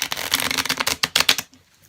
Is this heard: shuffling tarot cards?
yes